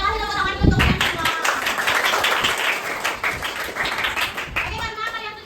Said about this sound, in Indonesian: Kita kasih tepuk tangan untuk kalian semua.